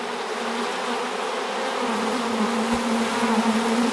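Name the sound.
honey bees buzzing while shaken into box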